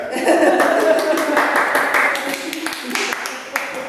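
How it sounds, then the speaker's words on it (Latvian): Brief applause from an audience at a lecture breaks out loud at once, then thins into scattered claps with some murmuring as it fades. "Aplausi Dītai."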